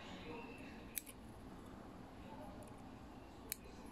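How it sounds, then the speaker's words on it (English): Small scissors snip off excess turkey feather hearl at a fly-tying bench, two faint, crisp clicks spaced a few seconds apart over quiet room noise. "So take a bunch of hearls, tie it in, cut off the excess."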